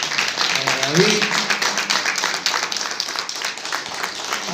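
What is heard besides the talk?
congregation applause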